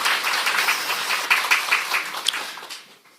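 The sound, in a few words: audience applause for the church guide team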